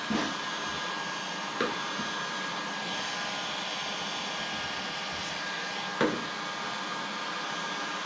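A heat gun blows a loud, constant airy roar while softening adhesive as a scraper works around the rear window of a 1970 Plymouth Cuda, with a few soft knocks over the steady hiss and no speech.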